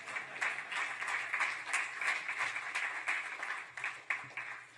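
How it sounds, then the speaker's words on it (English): Audience applause at a business workshop, a steady wash of many hands clapping for about five seconds at moderate, fairly distant level, with no voices over it. "Another round of applause for the world-renowned Sally Allain"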